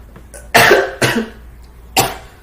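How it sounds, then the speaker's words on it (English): Three sharp coughs close to the microphone, two in quick succession and a third after a short pause, with quiet background between. "Sorry for coughing so much"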